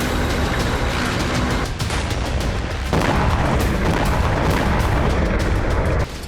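Israeli air strikes and missiles hitting Rafah, with a dense, continuous barrage of loud booms and blasts rolling together, heavy and sustained throughout with a brief lull near the end.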